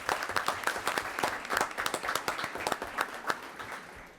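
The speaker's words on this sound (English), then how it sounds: "So let's give Kelly a round of applause." A small crowd at a school board meeting claps steadily, a dense patter of hand claps that holds at an even level for a few seconds.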